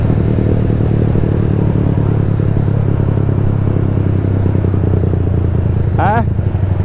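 A Rusi motorcycle fitted with an Orion muffler idles close by in a steady, throaty drone. A brief rising chirp cuts in near the end.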